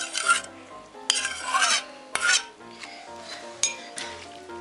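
Scraping and rubbing of a spoon stirring a thick honey and sugar mixture in a bowl, in repeated close strokes with occasional clinks, no talking.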